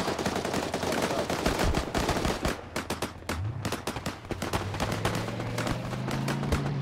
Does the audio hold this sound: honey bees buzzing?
no